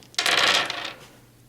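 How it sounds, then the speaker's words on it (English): Dice tumble across a table in a Warhammer 40k tabletop game, a quick burst of clattering rattles that rings briefly and then dies away. "I'm going to stick to throwing 4 dice at"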